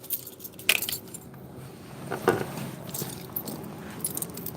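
A set of keys jangles close by in a few short metallic bursts, the sharpest near the start and another a couple of seconds later, over quiet room noise.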